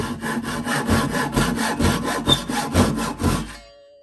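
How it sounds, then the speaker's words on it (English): Shark dual-edge pull saw with fine teeth cutting wood, rapid rhythmic rasping strokes close by, about a dozen quick pulls before stopping. "Let's try my little shark saw."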